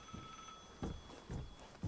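An annoying telephone rings in the Vigor video game, with three or four short bursts about half a second apart over a quiet background that is otherwise nearly empty.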